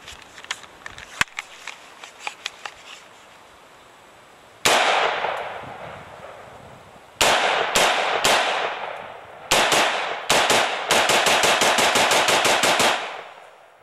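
A Bushmaster M4 rifle fires outdoors at metal targets. A few sharp distant cracks come first, then loud shots ring out singly and in rapid strings, with metallic pings among them.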